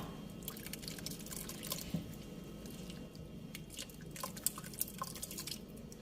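Coconut-milk fish-kidney curry is ladled over khanom jeen rice noodles, making soft, faint drips, splashes and wet squishes close by in a quiet kitchen setting.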